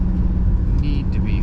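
A 1982 Mercedes-Benz 300D with a five-cylinder turbo diesel, swapped to a manual gearbox, drives along with a steady, close, low engine rumble and a faint high whine, under a talking voice.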